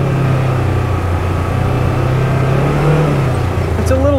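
2022 Polaris General XP 1000 Trailhead Edition engine under throttle, a loud, close, steady drone that swells slightly and then eases off, with a brief rise in pitch near the end.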